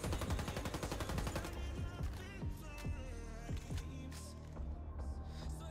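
R16A4 and ARX assault rifles firing in the Warface video game, opening with a fast, loud burst of automatic fire followed by slower single and paired shots.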